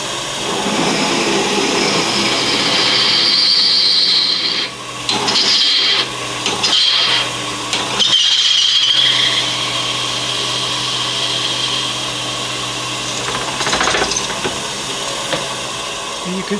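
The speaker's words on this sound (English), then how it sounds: "Drill bits aren't very good at drilling through thin material, particularly thin metal." A power drill bores through thin metal after a pilot hole, a loud whining grind with several brief pauses and restarts, the motor pitch dropping under load before spinning on.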